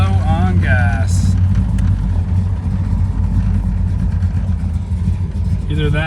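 Chevy 350 small block V8 car driving in second gear, a loud steady engine drone heard close up with a brief voice at the start and end.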